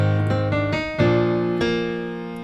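Piano plays the opening bars of a section of a sea shanty, a handful of clear notes and chords struck in an unhurried rhythm, each ringing on and fading, close and alone.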